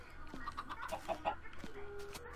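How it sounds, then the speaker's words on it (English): Minecraft chickens on Xbox 360 cluck in a quick series of short, near calls, moderately loud, with faint game sounds around them. "Kill a bunch of chickens again."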